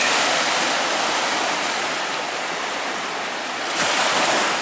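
Ocean waves wash onto the sandy beach at Honeymoon Island as a steady, loud broadband roar with continuous surf, a slight swell in the final second, and no voices.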